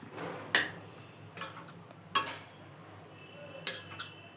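Coconut chutney powder is mixed into roasting ingredients in a pan, with a spoon clinking and scraping against metal in several sharp, irregular strikes over a quiet background.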